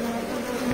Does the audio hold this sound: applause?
no